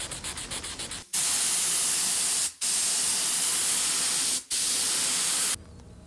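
An aerosol can of spray paint sprays in three long hissing bursts separated by short pauses, close and loud, preceded by a quick rattling sound, during a Moto Guzzi Le Mans Mk1 motorcycle restoration.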